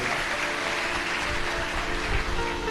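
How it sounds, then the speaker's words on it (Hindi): Steady, dense clapping from an audience honouring saints at a Shiva katha religious discourse, filling the whole stretch loudly and evenly without pause. "एक बार जोरदार ताली बजाकर संतों के लिए।"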